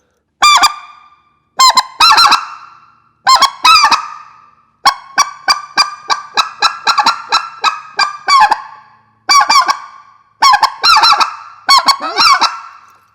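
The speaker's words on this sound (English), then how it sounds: "So just basic clucks and a couple 2- and 3-note yodels will get you by just like this." Specklebelly goose call blown in a series of short clucks and two- and three-note yodels, loud and close, in separate bursts with pauses between and one longer rapid run in the middle.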